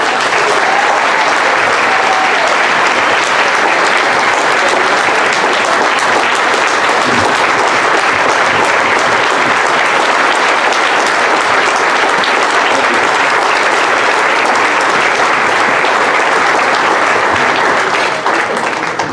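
A large audience at an awards ceremony gives a standing ovation, with loud, sustained clapping that fills the room evenly and keeps going without a break.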